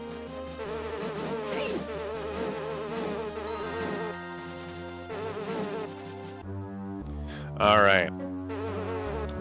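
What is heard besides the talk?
bee buzzing in The Hobbit video game (GBA)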